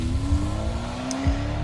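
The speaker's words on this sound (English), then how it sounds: "The sound of the departing car's engine started the countdown." A video game car's engine hums steadily as it drives away, its pitch creeping slowly upward as it accelerates, with a faint scrape of tires partway through.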